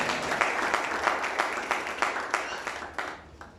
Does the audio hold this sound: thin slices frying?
no